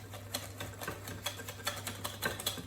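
Schmarrn batter being mixed in a bowl, a quick, steady run of light clicking taps from the utensil against the bowl, fairly close and even, with no voices.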